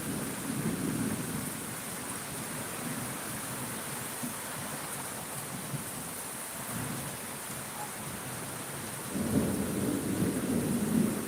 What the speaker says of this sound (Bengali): প্রচুর পরিমাণে বৃষ্টিতে বৃষ্টি হচ্ছে